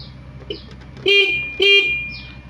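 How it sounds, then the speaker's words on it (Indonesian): Two short, bright horn beeps from a Honda Vario 110 carburetor scooter that won't electric-start, ignition on, close and fairly loud, spaced about half a second apart over a quiet background. "Setelah on, kita pencet klakson."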